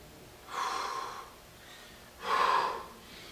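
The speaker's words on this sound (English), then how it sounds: "Come down, breathe in." A person takes two deep, audible breaths during a pre-surf warm-up exercise, each a breathy rush lasting about a second, close to the microphone and separated by a quiet pause.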